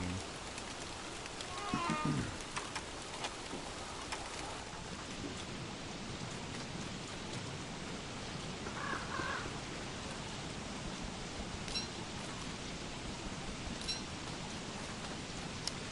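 Steady, dense rain pours continuously in a video game, with a low rumble of thunder near the start and a constant hiss throughout.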